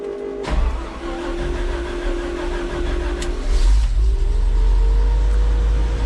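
An engine cranks and catches after a sharp start, then settles into a steady, loud idle rumble that swells slightly toward the end, with no talk over it.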